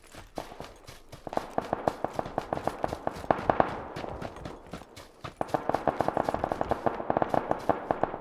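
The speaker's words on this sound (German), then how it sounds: "die hier war direkt ein Schuss bei uns" Rapid bursts of gunfire in the PUBG video game, a steady run of sharp repeated shots that pauses briefly and then resumes louder.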